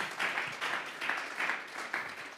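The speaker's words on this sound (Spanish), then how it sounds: "Ayúdenme por lo menos con un amencito, hombre, y con un aplauso para el Señor." Church congregation clapping during a Spanish-language sermon, quiet rhythmic bursts of applause pulsing at a steady beat, somewhat distant.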